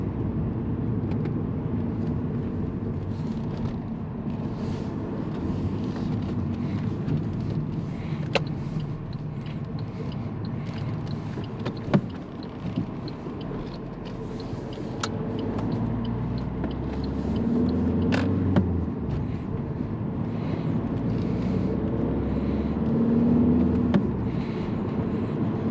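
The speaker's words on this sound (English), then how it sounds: "It's a car for everyday driving, so it's not that low, of course." An Alfa Romeo Mito diesel, a car built for everyday driving, rolls along with a steady low engine drone and road rumble, a few sharp clicks and knocks and a brief surge in engine note partway through, with no talking.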